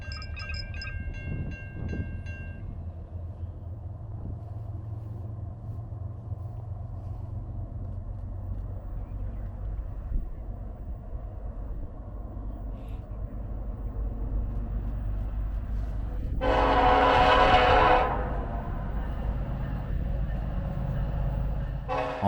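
A Norfolk Southern freight train led by locomotive NS 1065 rumbles steadily past at a crossing. Partway through, a long loud horn blast rises over the rolling noise.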